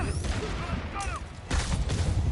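Rapid bursts of gunfire in the video game Spider-Man Remastered, dense and steady across the whole moment, with a louder surge near the end, mixed with in-game voices and effects.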